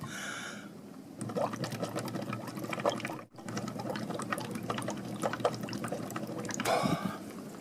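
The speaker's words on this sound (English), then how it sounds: "the next step is to bubble my breath into the mixture until it stops changing color and measure the pH again" Breath is blown through a liquid mixture in a sped-up acid-strength experiment, producing a continuous rapid bubbling gurgle. The bubbling breaks off briefly near the middle and then resumes, with no speech.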